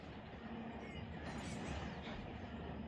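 Freight manifest train in the Run 8 train simulator on the San Diego to Los Angeles route, a low continuous rumble of rolling cars with a faint metallic hum, steady and moderately quiet.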